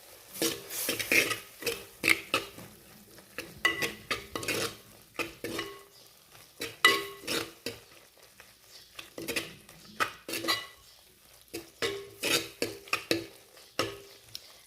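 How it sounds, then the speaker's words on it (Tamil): Thick fish curry masala stirred in a clay mud pot, a run of scraping, clattering strokes in quick uneven rhythm, close and fairly loud, with no talking. "இந்த மசாலாவோட நம்ம இதை எல்லாத்தையுமே நல்லா கிளறி விட்டுறலாம்"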